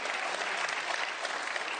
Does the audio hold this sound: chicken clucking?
no